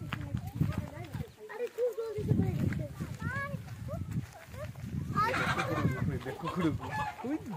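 Village chickens cluck in short bursts around a rural homestead where goats are also kept, mixed with people talking nearby and other outdoor bustle.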